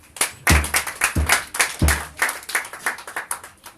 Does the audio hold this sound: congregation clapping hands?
yes